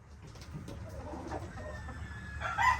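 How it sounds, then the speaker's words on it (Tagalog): Brass back and white Kelso pullets cluck softly nearby in a few faint, scattered calls over light background noise. "Ito yung mga pullets namin. Brass back. Dalawang brass back. Isang white kelso."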